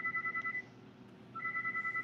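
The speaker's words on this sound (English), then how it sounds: "Answer the phone." Telephone ringing in a room: two bursts of a bright electronic double-tone ring, each repeating in a quick warbling pulse, separated by a short gap, moderately loud over a low background hum.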